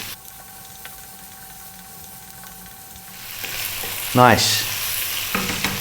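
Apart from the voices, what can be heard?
potatoes frying and being stirred in pan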